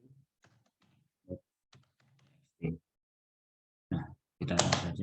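Computer keyboard typing during a programming task, a few scattered soft key taps followed by louder, closer clacks and a dense burst of rapid keystrokes at the end.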